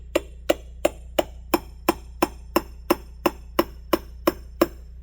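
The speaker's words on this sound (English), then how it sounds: "Use my favorite hammer here" A hammer strikes metal on a scrap Honda in a steady, evenly spaced series of about thirteen sharp, ringing blows, close and loud.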